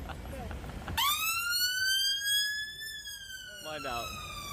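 An ambulance siren sounds at a protest scene, a loud, sustained wail that starts abruptly and holds a steady tone, then a second siren tone briefly overlaps near the end, over faint background noise.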